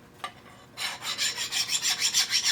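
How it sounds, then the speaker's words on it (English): A hand file rasps across a lathe tool bit for a quick quick-change tool post setup, one light scrape first, then about ten steady, rhythmic strokes, close and fairly quiet, with no talking. "Run the file over it."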